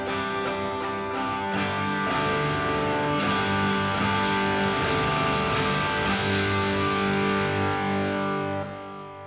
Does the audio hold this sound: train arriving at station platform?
no